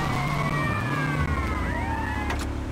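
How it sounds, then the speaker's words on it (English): A police car siren in the video game Grand Theft Auto: Vice City wails with rising and falling tones over the rumble of a driving car, loud and close for a few seconds. "Don't let this police car fuck you up."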